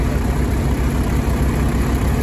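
Steady, loud low rumble of an old Harvester farm tractor engine idling up close, an even drone with no change in pace or pitch.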